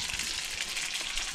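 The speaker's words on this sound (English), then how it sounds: "Put them in your hot oil. And you let them cook" Egg rolls frying in hot oil, a steady, close, dense sizzle and crackle that holds evenly throughout without talk.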